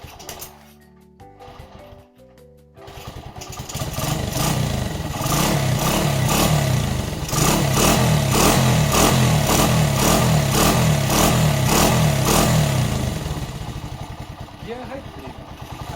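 A restored Honda CB90 motorcycle engine starts after a brief quiet moment, catching and then running loudly and steadily nearby with a rapid, even clatter, easing slightly toward the end.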